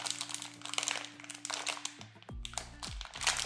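A bag of peanuts, carried as trail food on the Camino Francés, crinkles and crunches under probing fingers in a close, busy burst of plastic crackling that stops and starts over a faint steady hum.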